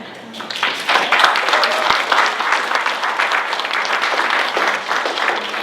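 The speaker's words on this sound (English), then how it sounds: "could we just embarrass Kristen and give her a round of applause?" An audience at a genetic testing survivorship seminar breaks into a sustained round of applause, dense clapping from many hands that swells and holds steady for several seconds.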